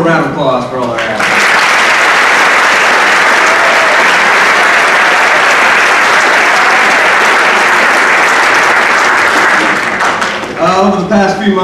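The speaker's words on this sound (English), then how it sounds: "One more round of applause for all our athletes." A loud, sustained round of applause for athletes at a high school winter sports awards ceremony, dense clapping filling about ten seconds, with brief voices at the start and end.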